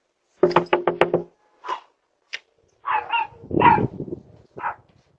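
Police rap on an apartment door in a quick burst of five sharp knocks, followed by scattered single thumps and a dog's barks and yips from inside, all fairly close.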